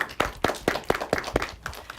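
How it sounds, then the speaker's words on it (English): Applause from a small audience at an elementary school derby match, sparse and uneven, with distinct close claps in an irregular rhythm over about two seconds. "Big round of applause for yourself."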